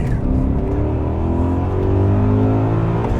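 A 2001 BMW E39 M5 engine revs hard as it accelerates from 30 to 60 in second gear, the pitch climbing steadily, loud and close, with no talking.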